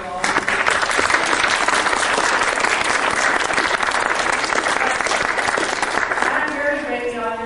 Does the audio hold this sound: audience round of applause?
yes